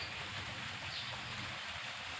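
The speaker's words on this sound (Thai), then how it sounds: "เดี๋ยวนี้ก็ฝนตกลิ่นเลยพี่น้อง" Steady rain falling, a dense, even hiss of drops with a low rumble beneath, continuous and fairly close for a couple of seconds, no voices.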